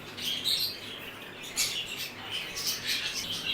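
Pastel java exhibition budgerigars calling in a breeder's setup, a busy close chatter of overlapping squawks and chirps that rises and falls without pause, with no talking.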